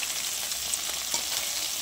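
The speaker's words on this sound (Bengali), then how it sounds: "মাছটাকে কড়ার মধ্যে দিয়ে দিলাম। এবার মাছটাকে ভাজা হবে।" Fish sizzles in hot oil in a wok, giving an even, hissing fry with a couple of faint stirring taps, close and moderately quiet.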